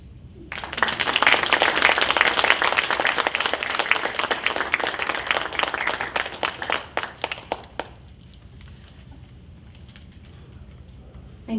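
Loud applause from a crowd at a poetry event, dense clapping that swells quickly, holds for several seconds, then thins out into scattered claps and quiet.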